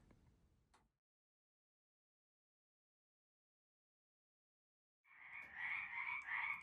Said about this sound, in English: what it sounds like in the evening when the frogs start coming out